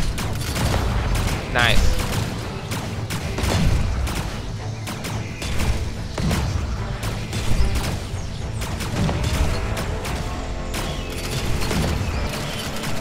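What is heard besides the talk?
pulse rifle firing in video game Stranded: Alien Dawn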